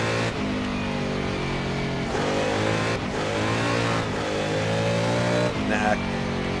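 A historic sportscar in the Assetto Corsa racing game revs hard and over-revs, its engine holding a loud, harsh, rising note with brief dips between pulls while someone talks over it.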